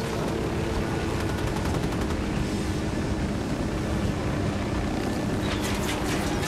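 Squad gunfire opening up in Ghost Recon Wildlands, a dense, continuous roar of shots layered over a steady aircraft or helicopter drone, loud and sustained throughout with no clear gaps.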